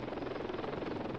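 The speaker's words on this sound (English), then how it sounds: "The Lynx, a highly versatile and maneuverable naval helicopter" A Westland Lynx naval helicopter flies with a steady, fast rotor thump and engine drone, moderately distant and continuous.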